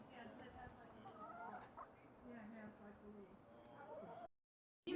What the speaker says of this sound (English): They are all egg-laying hens.